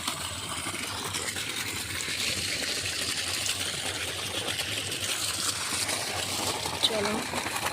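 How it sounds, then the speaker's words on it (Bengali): Muddy feet rinsed in field drainage water outdoors, a steady close splashing and trickling wash that runs throughout with constant background noise and no pauses. "এখানে আমি আজকে পাটা ধুই"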